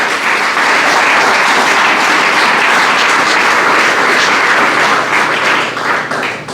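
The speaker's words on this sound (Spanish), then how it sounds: "dele un fuerte aplauso al Señor." A church congregation applauds loudly and continuously, a thick, roaring wash of many hands that holds steady for several seconds before easing slightly at the close.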